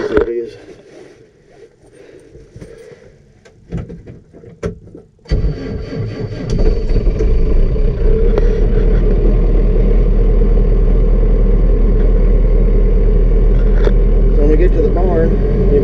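A diesel engine on a cold farm morning cranks after some clattering handling noises, then catches and settles into a loud, steady idle with a deep low drone and a faint metallic rattle, close by.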